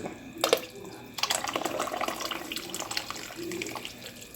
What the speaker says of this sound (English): Pour that right on back in there.